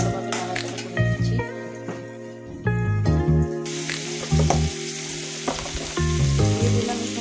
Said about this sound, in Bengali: মশলাগুলো দিয়ে ভালোভাবে নাড়াচাড়া করে নিচ্ছি